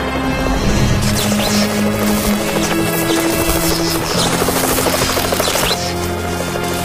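A loud helicopter drones continuously with a deep rotor thump and engine whine, steady throughout.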